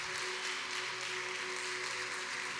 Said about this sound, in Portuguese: Vocês podem aplaudir o nome daquele que é digno de todo louvor